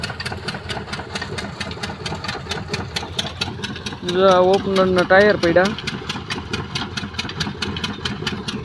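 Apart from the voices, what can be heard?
tractor engine running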